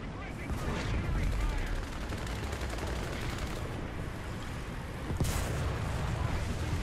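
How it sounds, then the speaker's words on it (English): Artillery fire in the video game War Thunder sounds as a dense, continuous roar of booming blasts and gunfire, loud and close, with a sharper crack near the end. "Requesting for artillery fire."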